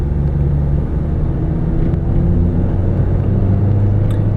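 A 2016 Honda Fit EX engine on a test drive, a loud steady low rumble of the car under way with road noise, continuous throughout.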